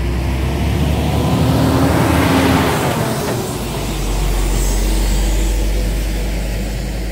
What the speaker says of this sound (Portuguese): estou num lugar aqui em Parauapebas e tem um certo trânsito de caminhões